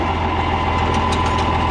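A John Deere 4010 tractor's engine drones steadily while reversing in high gear, a constant close mechanical hum with faint clicks and rattles on top and no talking.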